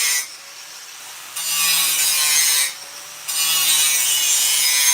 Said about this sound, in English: we are just grinding away, trying to make some metal fit some other metal